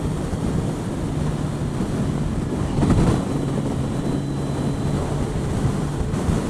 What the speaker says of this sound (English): It's windy. It's very, very windy.